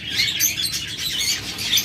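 Pet lovebirds and budgerigars kept in cages for sale chirp in a busy, overlapping chorus of high, quick tweets, close and fairly loud, with no talking over them.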